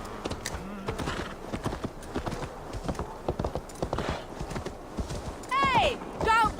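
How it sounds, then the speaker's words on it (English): Horse hooves clip-clop in Assassin's Creed Valhalla, a steady run of sharp hoofbeats with a whinny near the end, while someone talks over them. "Nice, got me a horse."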